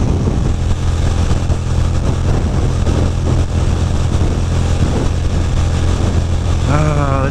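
Ducati motorcycle cruising at highway speed around 75 mph through a freezing downpour in upstate New York, with a steady loud roar of engine and wind and spray, continuous throughout and ending in a rising whine.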